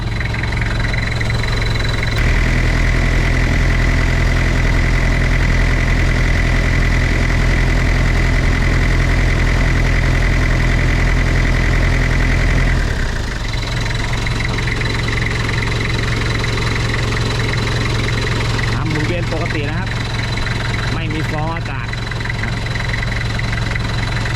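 The engine of a 1993 Toyota Mighty-X pickup idles in a steady, loud, close-up drone; the tone changes partway through, then it keeps running evenly.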